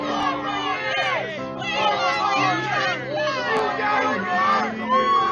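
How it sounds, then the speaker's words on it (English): Crowd of supporters at a Trump rally, a dense babble of many voices cheering and calling out continuously, fairly close and busy throughout. "Look, we got a nice crowd over here."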